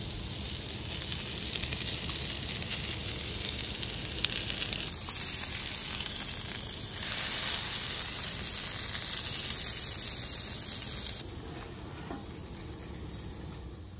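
Food sizzling on a camp griddle during a van trip at Douglas Lake, a steady close hiss and crackle of frying that carries on throughout with a few shifts in intensity, no talk.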